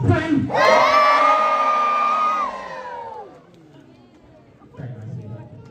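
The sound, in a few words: safari park audience giving a massive cheer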